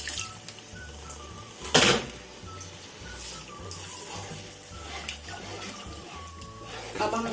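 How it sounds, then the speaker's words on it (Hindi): Two cups of water are poured into semolina that has been roasted about ten minutes for suji halwa. The pouring runs as a continuous splashing, gurgling wash, with a sharp clatter part way through and a low hum underneath. "दो कप हम इसमें पानी डालेंगे।"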